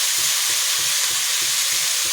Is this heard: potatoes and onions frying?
yes